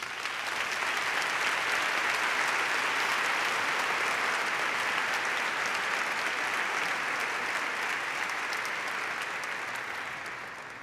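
A large audience at a university graduation ceremony applauds in a steady, dense roar of clapping that holds for about ten seconds, heard from a distance and easing off slightly at the end.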